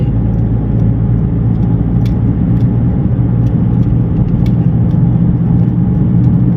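Big motorcycle taxi engine running steadily while riding near an industrial estate in Udon Thani, a continuous loud low rumble with wind noise and no pauses.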